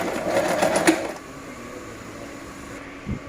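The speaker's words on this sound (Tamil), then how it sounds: "இப்போ நான் ஸ்டிச் பண்ண போகிறேன் பாருங்கள்." Short burst of a sewing machine stitching for about a second, close and fairly loud, then stopping into quiet room tone with a faint thump near the end.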